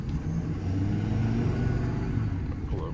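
A 2018 Ford F750 extended-cab diesel truck carrying a Stellar crane, with 133k miles, rolls through a tight turn. Its engine gives a steady, heavy low drone at close range, with no pauses and no talk.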